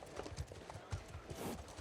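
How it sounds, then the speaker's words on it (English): Two horses being led out of the stables in the video game The Last of Us Part II Remastered, their hooves clip-clopping in a soft, uneven rhythm at a low level. "Ellie and Dina lead 2 horses out of the stables."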